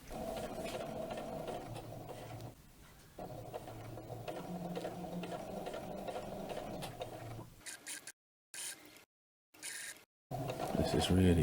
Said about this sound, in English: I've got a different foot on the sewing machine now, a 1/4 inch foot